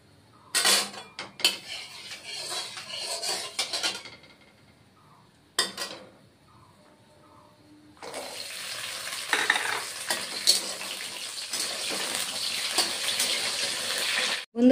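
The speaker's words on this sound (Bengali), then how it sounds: "ডালের বড়ি আমার ভাজা হয়ে গেছে" Washed lentil dumplings (dal bori) fry in oil in a wok. A few sharp clanks of stirring and utensils with quiet gaps come first, then a loud, continuous close-up sizzle takes over for the final stretch.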